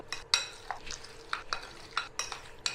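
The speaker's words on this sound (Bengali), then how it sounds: "ভালো করে সব মেশাবো।" Chicken with yogurt, Kashmiri chili powder, salt and mustard oil is mixed in a bowl, making soft, rhythmic, wet squelching stirs and light utensil scrapes, each stroke spaced about half a second apart, close up and quiet.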